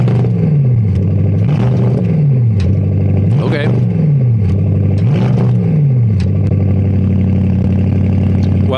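A car with a sport exhaust, likely a four-cylinder, revving repeatedly in rising and falling sweeps with a few pops, loud and close, with a brief spoken word over it.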